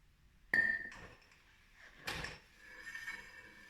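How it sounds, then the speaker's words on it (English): Brake cleaner is sprayed onto a paper towel and held against the brake rotor of a Yamaha Road Star 1700 motorcycle while it spins. Short, close aerosol bursts are followed by a brief scrape and a softer rubbing swish. "We're going to put some brake cleaner on a paper towel, and we're going to hold it on the rotor, and we're going to spin"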